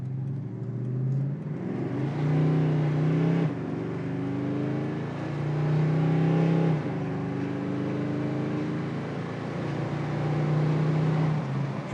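A 1966 Ford Mustang Fastback accelerates toward highway speed, its engine note climbing through several gears with drops at each shift, loud and steady from inside the car.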